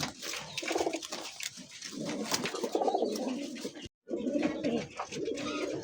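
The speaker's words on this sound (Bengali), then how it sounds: "একদমই নতুন কবুতর," Pigeons at a pigeon market coo repeatedly in soft, throaty bursts, steady and close, with a brief pause before the cooing resumes.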